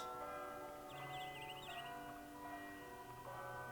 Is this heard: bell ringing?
yes